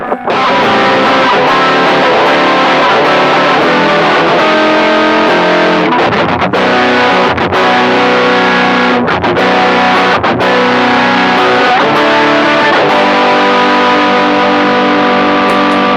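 Loud, heavily distorted electric guitar through a Free The Tone Silky Groove compressor pedal strums chords with an even, squashed, compressed sustain, with a few brief choppy breaks between strums.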